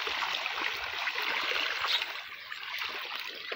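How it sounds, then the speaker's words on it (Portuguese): Steady hiss of heavy rain with water rushing along a road, a dense, even wash of sound held at moderate volume without breaks or voices. "Isso é chuva. É água."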